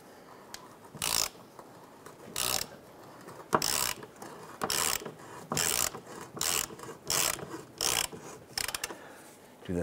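Repeated bursts of ratchet clicking, a second or so each, separated by short pauses as a lubricated transmission mount bolt is cranked tight on a Chrysler 300. Fairly close, with no talking.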